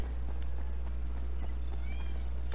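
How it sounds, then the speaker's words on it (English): A cat meows repeatedly in the background, thin and somewhat distant, over a steady low hum and faint clattering sounds. "I don't know if anyone else can hear that cat meowing like crazy"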